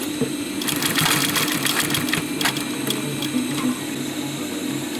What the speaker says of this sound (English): Now you want to do a few stitches here to secure the cord.